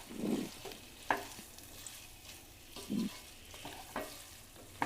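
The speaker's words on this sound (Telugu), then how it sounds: "ఇప్పుడు ఇవన్నీ సమంగా బాగా కలుపుకోవాలి." A spoon stirs coriander, mint, green chili and cashew paste into pulao in a pan, making faint scraping strokes at irregular intervals over a soft, steady sizzle.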